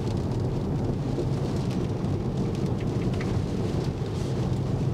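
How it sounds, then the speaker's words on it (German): Rain drums steadily on a moving electric car, a dense even wash of droplets over low road rumble, constant and close throughout with no voices. "Der Rest war wahrscheinlich das Regenwasser heute"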